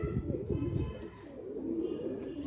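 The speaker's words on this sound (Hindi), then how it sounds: "जो कि तीन कबूतर आए हुए हैं सेल के लिए" Several highflyer pigeons coo in a low, continuous burbling chorus, close and steady throughout, with a faint background hum and no talking.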